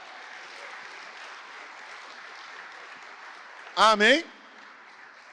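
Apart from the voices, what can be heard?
congregation applauding in church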